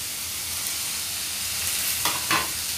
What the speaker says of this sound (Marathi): व्यवस्थित परतून घेऊया।